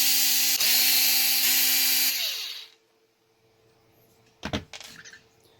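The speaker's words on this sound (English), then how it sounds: "Just gonna pop these screws." A power driver whirs for about two seconds, backing screws out of an Arrma Kraton EXB RC car, its high whine stopping briefly mid-run, followed by quiet and a couple of sharp handling clicks.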